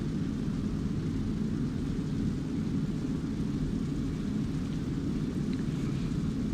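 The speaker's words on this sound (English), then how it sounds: "this is the C130J. And off to the takeoff." A C-130J transport plane in ARMA 2 powers up for takeoff, its engines giving a loud, continuous low roar that holds steady and unbroken throughout.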